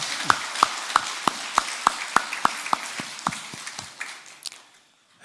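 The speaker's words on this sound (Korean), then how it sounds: "이 시간 박수로 우리 하나님께 영광 올립니다" A church congregation clapping together in a steady, even rhythm, about a dozen crisp beats that gradually soften and trail off into quiet.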